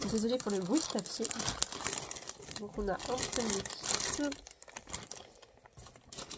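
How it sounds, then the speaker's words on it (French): Paper crinkles and tears steadily while a new kit is unwrapped at a home nursery, close and fairly loud, running under a woman's speech and continuing briefly alone after she stops. "Désolée pour le bruit de papier."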